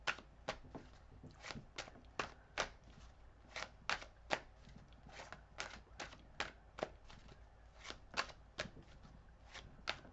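A deck of cards is shuffled up close in quick, regular riffling bursts that repeat steadily, fairly soft, with no talking over them.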